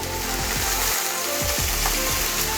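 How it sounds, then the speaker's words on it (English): White wine poured into a hot pan of sizzling shrimp for a pasta dish, giving a loud, steady frying hiss with bubbling surges and brief stirring, and no talk. "So we're gonna add a little bit of white wine"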